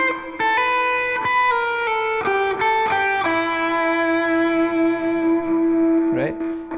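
Electric guitar with distortion playing a pentatonic rock lick slowly, a series of sustained picked notes stepping through the phrase and ending on a long held note, close, with no talking over it.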